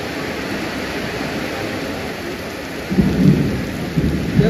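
A thunderstorm with steady heavy rain in a Maharashtra village, a constant hiss of rainfall joined by low rolling rumbles of thunder swelling near the end, close and loud.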